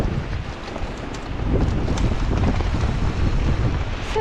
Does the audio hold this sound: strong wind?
yes